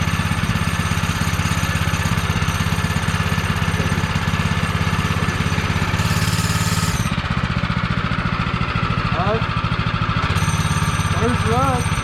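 A GPS180 engine, prepped for racing, starts for the first time and keeps running, giving a steady rhythmic mid-pitched drone with a brief change in tone midway while voices talk over it.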